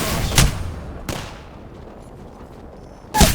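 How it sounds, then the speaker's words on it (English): Gunfire in Apex Legends: three sharp, loud shots spaced apart, the middle one lighter, with a quieter stretch of game ambience between them. "Listen up, I'm getting shot at."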